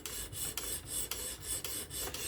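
A Spyderco Kapara knife with S30V steel is drawn against the stones of a fixed-angle sharpener, giving close, regular rasping strokes about twice per second with short gaps between them.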